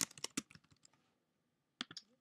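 Quick bursts of typing on a computer keyboard, about a dozen close, crisp key clicks in a fast run, a short pause, then a few more taps; no voice.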